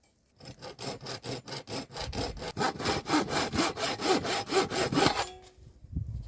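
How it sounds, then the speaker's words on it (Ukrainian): Steady back-and-forth strokes of a hand saw biting through wood, about a dozen rhythmic rasping passes that grow louder before stopping. "за допомогою от такої пилки е, відрізаю все зайве"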